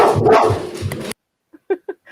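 A puppy gives a few short, sharp yips at a distance right after a burst of loud, close speech, the barks brief and spaced apart.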